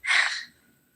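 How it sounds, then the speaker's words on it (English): A single short, sharp nasal burst of breath, close and fairly loud, fading quickly into quiet. "Did you just snort?"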